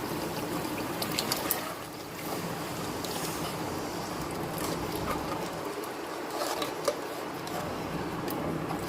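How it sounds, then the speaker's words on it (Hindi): A glass of water poured into a pot of mutton nihari on the stove, heard as a steady close trickling and splashing stream over a constant background hiss, with no talking. "अब हम इसमें पानी ऐड करेंगे। 1 गिलास पानी का इसमें डालेंगे।"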